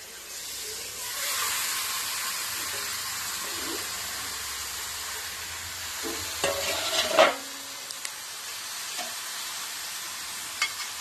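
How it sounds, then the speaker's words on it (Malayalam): Marinated chicken fries in a hot pan under a constant sizzling hiss while a spoon stirs it, scraping and clattering in a few sharper bursts toward the end. "നന്നായിട്ട് ഇളക്കി കൊടുക്കുന്നു."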